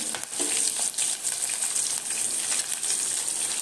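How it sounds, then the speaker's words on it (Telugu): Onion, garlic, curry leaves and dried red chillies frying in hot oil for a tomato rasam tempering give a steady, close, continuous sizzle that stays loud throughout. "వీటిని బాగా బ్రౌన్ కలర్ వచ్చేంత వరకు పోపు వేయించుకున్నామండి"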